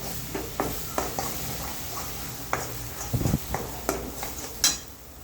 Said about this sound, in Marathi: आता याच्यामध्ये जे वाटण काढलं होतं मी ते घालून घेते आणि हे छान असं मिक्स करून घ्यायचं